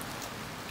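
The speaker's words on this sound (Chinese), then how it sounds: "这是下雨声" Steady rain falling, a dense, even patter that fills the short moment without pause, close and moderately loud with no voices over it.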